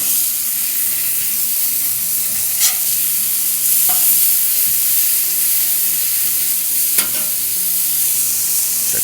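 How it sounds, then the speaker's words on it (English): Burger buns toasting on a hot griddle make a loud, steady sizzle and hiss close up, with a couple of brief clinks or scrapes from utensils and no talking. "let's place our buns onto the griddle, and we'll toast those up a little bit"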